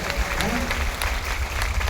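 A crowd claps at a company meeting, a dense, steady wash of applause running throughout the short stretch at fairly loud level.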